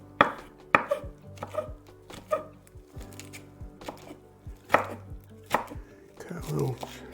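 A knife chops rolled-up baby spinach on a cutting board in a steady series of sharp, close thuds, about a dozen evenly spaced strokes with a slight scrape near the end.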